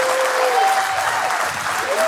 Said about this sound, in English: Everyone, please, a big round of applause.